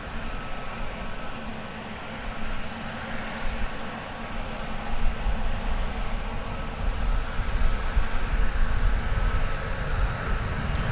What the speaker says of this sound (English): American Flight 2136 arriving from Morelia in Mexico, an Airbus A319.